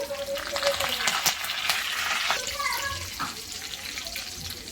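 Mustard seeds, cumin and curry leaves sizzle and crackle in hot oil for a broccoli fry bhaji, a steady close frying hiss with faint stirring clatter and no talking.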